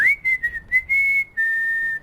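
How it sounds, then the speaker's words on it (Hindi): A person whistling a short run of sustained high tones, clear and close, broken into a few quick bursts then held notes, with no talk over it. "अरे सीटी मत मारो यार।"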